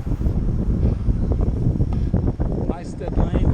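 Heavy wind buffeting a microphone while cycling into a headwind on a group road ride, a loud, gusty low roar throughout with a person talking over it.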